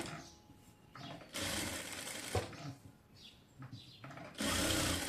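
Sewing machine stitching a designer sleeve, stop-start bursts of motor whir at moderate volume separated by quieter pauses and small handling noises.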